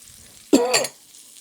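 Sliced shallots and chopped celery drop into a hot pan, giving a single short, close sizzling burst that fades within half a second, with quiet room tone before and after.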